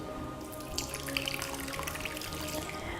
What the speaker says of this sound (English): To that, I'm going to add in 1 cup of hot water.